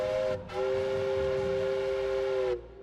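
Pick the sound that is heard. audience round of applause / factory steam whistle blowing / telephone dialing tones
factory steam whistle blowing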